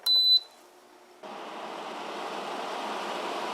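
A couple of short electronic beeps, a brief quiet, then a steady mechanical hum and airflow of a brand-new air conditioner starting up and running evenly.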